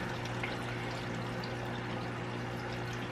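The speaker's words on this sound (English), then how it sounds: "so I'm gonna pour more water" Water pours in a continuous, steady rush onto lasagna noodles in a home kitchen, loud and close with no voices.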